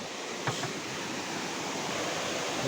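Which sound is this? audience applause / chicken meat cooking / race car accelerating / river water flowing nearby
river water flowing nearby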